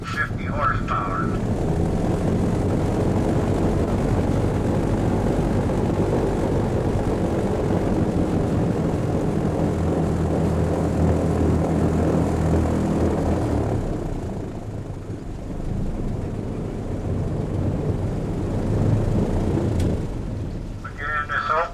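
An airboat powered by two Cadillac Eldorado engines, about 750 horsepower, roars steadily close by in the Everglades, a loud droning propeller and engine noise that eases briefly midway and then returns; a voice talks over it.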